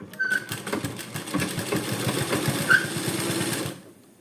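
A sewing machine runs steadily while stitching fabric piping, a fast, even mechanical chatter of the needle that carries on for several seconds close by and then stops abruptly.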